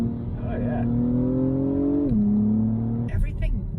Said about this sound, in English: You get some audible feedback when the car downshifts